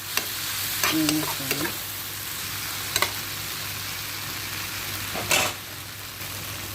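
Onion, tomato and green chili frying in a pan make a steady low sizzle, with a few utensil stirs and taps. A voice briefly says a word or two.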